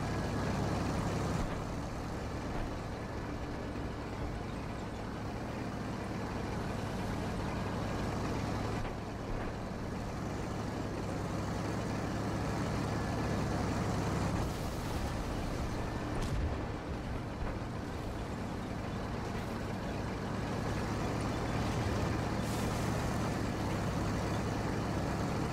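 Bus on a trip across a farm map, a steady low engine rumble and road noise droning on for a long stretch, with occasional hissing bursts like air brakes and no talk.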